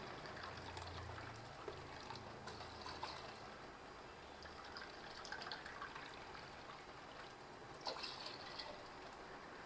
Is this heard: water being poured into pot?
yes